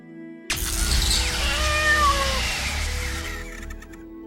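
A cat meows loudly and close up in one long, drawn-out wavering cry that rises and falls before trailing off, with no other sounds around it.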